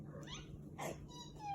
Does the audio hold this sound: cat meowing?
yes